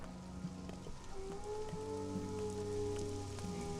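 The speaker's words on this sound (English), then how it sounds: "Also, it's supposedly raining. I hear rain, I don't see it." Rain falls in a video game, a steady soft patter of drops on surfaces heard at low level under faint tonal game music, with no talking.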